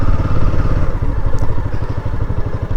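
Loud motorcycle engine drone while riding on a road toward a quiet hilltop ashram in Vagamon, with a throbbing exhaust pulse and some rattle, no talking.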